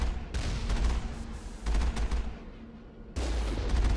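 A ship's main cannon fires at turrets in Mass Effect, heavy booming blasts roughly every second and a half, each followed by a rumbling, crackling tail, loud and without voices.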